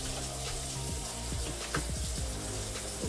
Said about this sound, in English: Can I turn on the water, Justin?